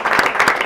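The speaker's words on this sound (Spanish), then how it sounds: "un fuerte aplauso a Víctor para agradecerle." A short burst of applause from a group at a book presentation, steady dense clapping throughout, fairly loud and close.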